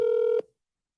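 A single steady DTMF dialing tone from a house telephone keypad, close and clear, lasting under half a second before cutting off into silence.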